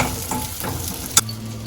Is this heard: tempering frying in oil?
yes